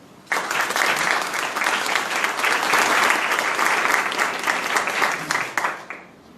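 An audience at a lawyers' commemoration in Guarulhos applauds the commission presidents in a burst of dense clapping that starts abruptly, holds steady and fades near the end.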